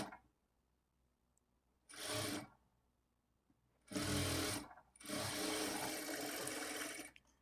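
A sewing machine stitches blouse fabric in three bursts, a short run and then two longer runs of rapid, even whirring, separated by quiet pauses.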